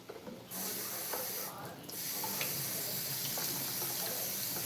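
Tap water runs steadily into a sink while quinoa is rinsed, a continuous hiss-like spray that starts after a brief pause and holds at a moderate, close level.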